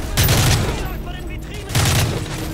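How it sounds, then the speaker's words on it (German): Two bursts of rapid gunfire from the video game Call of Duty: Modern Warfare 3, loud and close, separated by a brief lull with low background rumble. "Schüsse im Laden unten."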